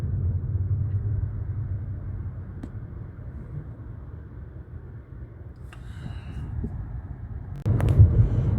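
A car rolling along a road in Portugal toward a main road and overpass, its low rumble and tyre noise fairly quiet and steady, swelling louder in the final second.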